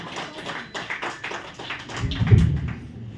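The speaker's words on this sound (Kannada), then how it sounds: "ಜೋರಾಗಿ ಚಪ್ಪಾಳೆ" Applause from an event audience at a Bhim Army foundation-day gathering, a dense patter of many hands clapping steadily throughout, with a low rumble swelling near the end.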